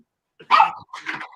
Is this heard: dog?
yes